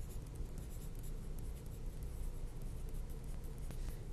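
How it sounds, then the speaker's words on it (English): A name is written by hand on a sheet of drawing paper, a steady close scratching of the writing tool across the surface for several seconds with no voices. "I'm going to put my name on it"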